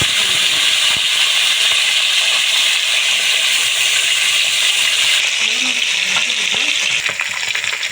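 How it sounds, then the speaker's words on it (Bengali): Bata fish seasoned with turmeric, salt and chili powder fry in hot oil in a wok, giving a loud, steady sizzle and hiss close by throughout. "কড়াতে তেল গরম করতে দিয়েছি, এখন দিয়ে দেবো মাছ।"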